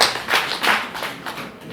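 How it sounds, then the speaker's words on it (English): Graduation audience applause, a short burst of dense clapping from many hands, fairly close and fading slightly toward the end. "So I request you to clap for yourself for having reached that level."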